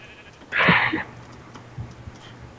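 A single sheep bleat in the Minecraft video game, a short nasal cry lasting about half a second at moderate volume, followed by faint low background noise.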